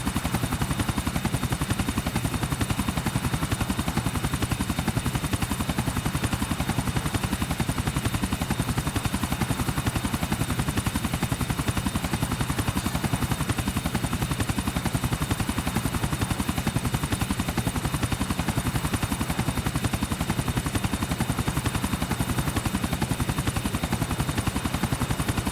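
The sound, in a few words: helicopter flying in GTA IV The Lost and Damned video game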